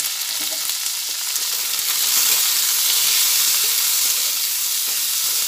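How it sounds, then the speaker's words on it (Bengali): Flat beans and sweet potato fry in hot oil with turmeric, a steady close sizzle and crackle with a faint clink of stirring, rising slightly in intensity partway through. "যেহেতু বটবটি আর রাঙা আলু একটু শক্ত জিনিস, সেজন্য ওগুলো আগে একটু ভেজে নেব"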